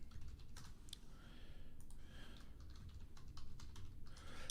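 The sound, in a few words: typing on a computer keyboard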